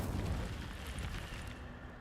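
The Incendio fire spell is cast in the Hogwarts Legacy video game, a dense, roaring burst of flame that stays full and steady for about two seconds before easing slightly.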